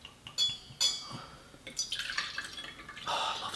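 Amaretto liqueur is poured into a measure, a few quiet drips and trickles followed by a soft, faint stream of liquid, close by with no speech.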